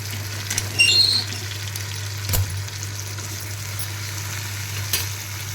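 Tomatoes frying and being stirred in a pan for drumstick sambar, a soft sizzle under a steady low hum, with a few scraping stirs and faint clicks spread across the clip.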